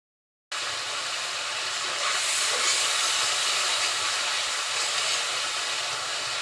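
Ground spice paste fries in hot oil for a cauliflower, bean, potato and tomato curry, producing a steady loud sizzling hiss that starts abruptly and swells slightly, heard close with no talking.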